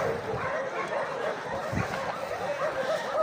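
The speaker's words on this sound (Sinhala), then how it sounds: "බල්ලෝ පුරන සද්දයක් ඇහෙනවා." Several dogs at a Saturday market in Romania where dogs and a horse cart are for sale, yipping and barking repeatedly at mid-distance over a steady, busy crowd murmur.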